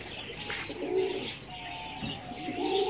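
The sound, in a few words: pigeons cooing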